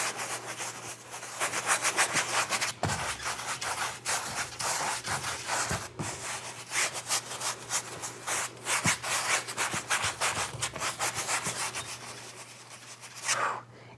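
A paintbrush scrubs paint onto a surface in crisscross strokes for an autumn snow sunrise painting, making a steady, close, rhythmic rubbing and scraping that continues throughout with no talking.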